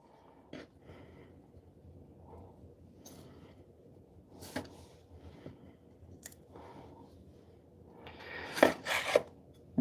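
A knife slices fresh-harvested Chinese long beans on a cutting board: scattered faint cuts and scrapes in a quiet room, rising to a cluster of louder, crisper chops near the end.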